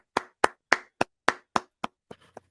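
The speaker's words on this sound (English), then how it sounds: "but we're just going to give him a round of applause ourselves." Podcast hosts clap by hand, about nine crisp, close claps at a steady pace that thin out and soften toward the end, with nothing else behind them.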